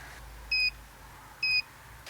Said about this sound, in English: I'm going to put it in buzzer sound so you can hear it go off